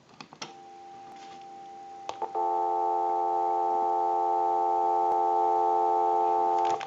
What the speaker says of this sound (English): We want to go ahead and give you some dial tone.